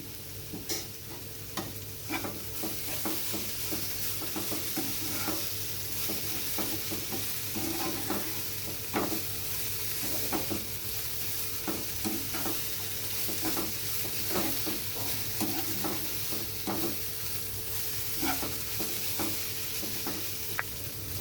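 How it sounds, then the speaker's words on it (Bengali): Banana flower being stirred with oil in a pan makes a quiet, continuous sizzle, with frequent soft scrapes and light taps of a spatula recurring throughout, close by and without talk. "মোচাটা খুব ভালোভাবে তেলের সাথে নেড়ে নিয়েছি"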